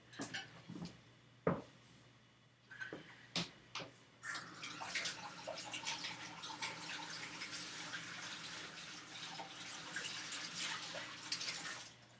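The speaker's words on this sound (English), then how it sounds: "You rinse it out." Running tap water rinses out a coffee maker assembly. Faint knocks and handling clatter come first, then a quiet, steady stream splashes against the parts with no one talking.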